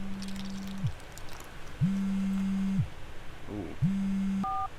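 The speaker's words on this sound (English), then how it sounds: "Phone vibrating." A phone in a parked car buzzes in three long steady low-pitched pulses separated by pauses, with a short two-tone beep at the end over a soft background hum.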